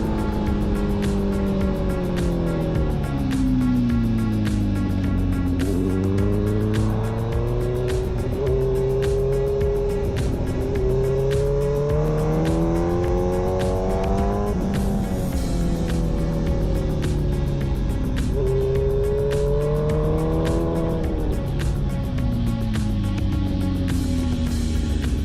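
A racing motorcycle accelerates hard on a track while battling R6 bikes, heard as a loud continuous onboard engine wail whose pitch climbs and drops through repeated gear shifts, with wind roar throughout.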